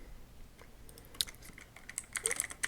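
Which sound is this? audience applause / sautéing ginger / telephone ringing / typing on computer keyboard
typing on computer keyboard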